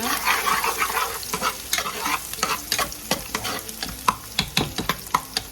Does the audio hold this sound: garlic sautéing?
yes